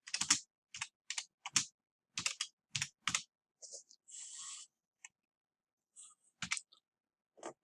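Someone types unevenly on a computer keyboard, with short bursts of close, crisp key clicks separated by pauses in an otherwise quiet room.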